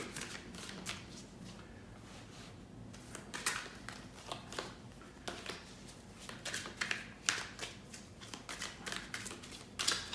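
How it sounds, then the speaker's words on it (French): Oracle Bleu cards are handled and drawn from a deck: a run of quick papery riffles, slides and soft flicks in irregular bursts, close and fairly quiet, with no talking. "Nous allons prendre trois cartes de l'oracle bleu."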